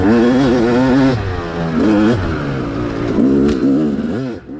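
A two-stroke dirt bike engine screams at wide-open throttle while racing, loud and close, its pitch wavering up and down as the rider holds it flat through a section.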